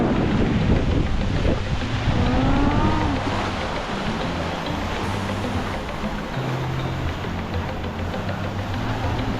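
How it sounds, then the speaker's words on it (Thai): A sea breeze at the seaside in Hua Hin roars across the microphone as broad, gusting wind noise mixed with surf, loud and constant, with a brief voice early on. "รับ ลมทะเลดีมากนะคะ"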